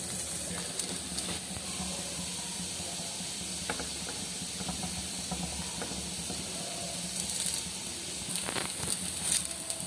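Ghee sizzles on a rice flour roti cooking on a griddle: a steady, close hiss runs throughout with a few faint clicks and a brief louder flare near the end.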